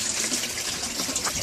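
Water pours steadily from the drain of an IBC tank in an aquaponics system, a continuous close splashing gush with no pauses or voices.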